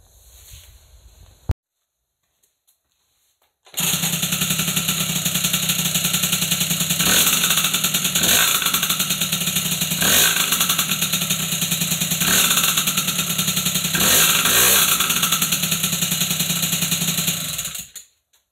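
A small MBK 51 moped engine runs steadily and loudly close by with a buzzing, rattly idle for about fourteen seconds, then stops abruptly as it is cut by the kill switch, leaving silence.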